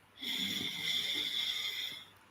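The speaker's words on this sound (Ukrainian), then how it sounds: "Глибокий вдих" One deep breath drawn in during a meditation, a single smooth airy inhale lasting about two seconds, close and quiet.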